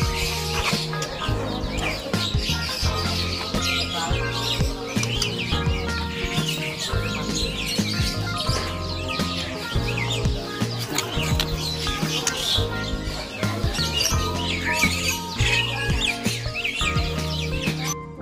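Caged magpie-robins and other birds at an Indonesian bird market fill the air with a dense, continuous chorus of chirps and song, loud and close, with some clucking mixed in.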